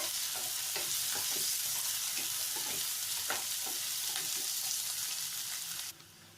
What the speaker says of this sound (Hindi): अब इसी में हमें अपना प्याज डाल देंगे।